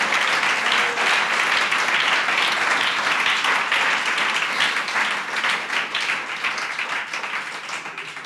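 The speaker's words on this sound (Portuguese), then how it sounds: "eu acho que Ele merece um grande aplauso" A church congregation claps together in sustained, dense applause that fills the room, holding steady before gradually thinning toward the end.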